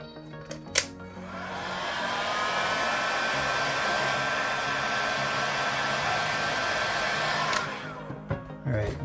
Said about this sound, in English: Let me blow a little bit more heat.